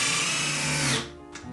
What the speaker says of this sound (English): We'll drill the middle hole.